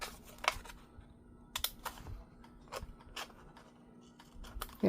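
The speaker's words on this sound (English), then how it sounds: "Let me take another snip." Scissors snip paper while trimming a junk journal corner, a few sharp, close cuts spaced irregularly among small handling clicks, no speech.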